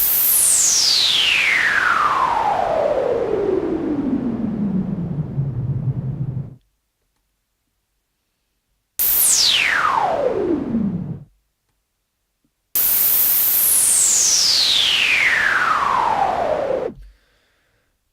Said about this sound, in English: increase the decay time out so we have a nice long filter sweep